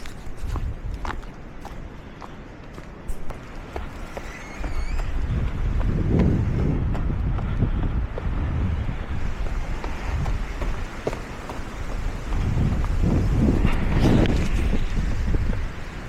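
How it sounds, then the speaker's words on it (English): Gusts of wind rumble and buffet the microphone on a New Hampshire mountain trail during a run, swelling and fading in loud low-pitched bursts, with faint footsteps and no talking. "It is windy today,"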